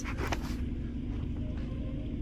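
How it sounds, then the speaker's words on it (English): A struggling truck engine near a highway rumbles in a deep, steady, continuous drone that stays fairly loud throughout, with no voices. "This truck is having issues."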